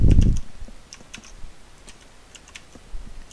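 Light keystrokes tapped on a computer keyboard while writing a Python timer program, a handful of separate clicks spread unevenly after a brief low thump at the start, close but quiet, with no speech.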